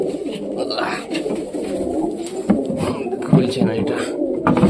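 Pigeons on a hot rooftop coo in low, overlapping murmurs under a close voice talking, with some clattering and shuffling nearby.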